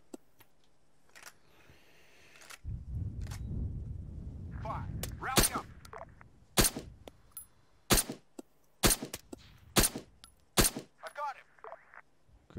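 Single sharp gunshots ring out one after another in the military shooter Arma 3, crisp and fairly loud, following a stretch of low rumbling noise.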